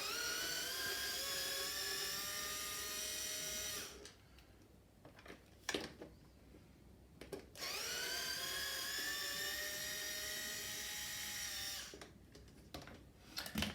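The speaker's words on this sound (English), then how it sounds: "we're going to do that by unscrewing these two screws here" A power driver whirs in two sustained high-pitched bursts while removing two screws from a Stokke Xplory stroller, with quiet clicks and handling noises in the pause between.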